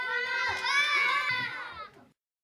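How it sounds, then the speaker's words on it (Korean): Excited children cheering and squealing together in a welfare center for kids as jjajangmyeon noodles are delivered, a loud burst of young voices rising for about two seconds before stopping abruptly. "짜장면이 도착하자 아이들은 기뻐하며 환호합니다."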